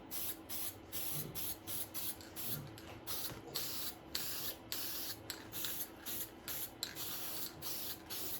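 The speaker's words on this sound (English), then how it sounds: "So we'll use our trusty spray paints again." Short hissing bursts from a spray paint can, repeated in quick irregular pulses with brief pauses between, close and steady.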